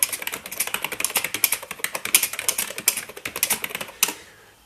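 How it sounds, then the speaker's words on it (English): Quick, steady keystrokes on an Epson PX-4 portable computer keyboard, close and fairly soft, a dense run of clicks lasting about four seconds before stopping. "Now I can type something by going to the command prompt"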